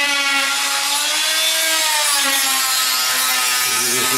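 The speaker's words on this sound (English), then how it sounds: "We use the oscillating tool to tear off the remover" An oscillating multi-tool tears off floor remover, producing a loud, continuous high-pitched buzzing whine with a steady tonal drone and slight pitch shifts, close and unbroken with no talk.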